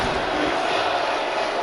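A live wrestling crowd at an independent show in Providence, Rhode Island, yells at a wrestler as a dense, continuous roar of many voices filling the whole short moment.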